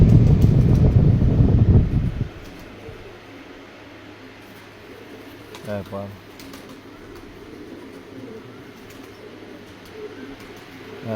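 A pigeon coos briefly in a quiet room, a soft throaty burst after a loud rumbling opening, with a low mechanical hum underneath throughout.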